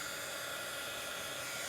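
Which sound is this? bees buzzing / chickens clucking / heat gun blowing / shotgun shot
heat gun blowing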